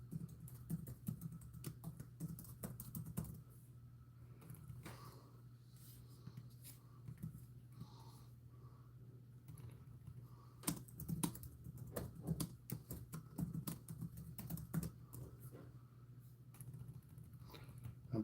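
Fast, irregular clatter of typing on a computer keyboard during a live reptile-sale stream, soft and close over a steady low hum, with bursts of quicker keystrokes and no speech.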